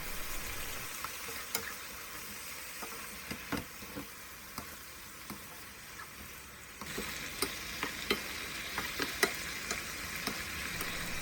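Eggplant sizzles in a hot pan as soy-sauce seasoning is stirred through, steady frying hiss with repeated scraping and tapping of a utensil, growing louder partway through, no speech.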